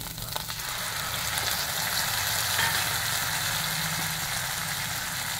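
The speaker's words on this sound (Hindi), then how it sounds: "डाल रही हूँ ये तेजपत्ते, जो मसाला मैंने मिक्स किया था वो डाल रही हूँ" Bay leaves and a mixed spice blend hit hot oil in a pan for a mushroom dish, giving a steady, loud sizzle and crackle that holds evenly throughout with no talking.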